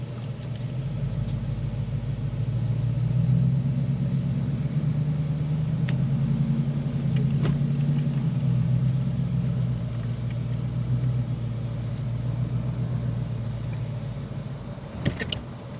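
Jeep engine running rough after being pulled into a parking spot, a steady low idle rumble with a faint uneven wobble, continuous and fairly close, with a brief knock near the end.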